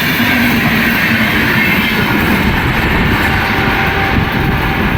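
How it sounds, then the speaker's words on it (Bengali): Ranchi Shatabdi Express racing past a moving train near Barddhaman, a loud, continuous roar and rush of carriages at close range, steady throughout the few seconds with no talking. "রাঁচি শতাব্দী এক্সপ্রেস ক্রস করলো"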